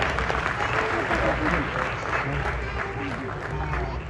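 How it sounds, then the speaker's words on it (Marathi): An audience claps to welcome guests at a book launch event, dense sustained applause filling the hall for several seconds with a murmuring crowd beneath. "आपण टाळ्या वाजून पाहुण्यांचं स्वागत करूया"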